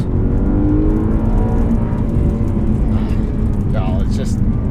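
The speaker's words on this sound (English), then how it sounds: "High revving motor." A BMW E92 M3 accelerates hard, its high-revving engine a loud, continuous, close-up whir that climbs in pitch as the car pulls.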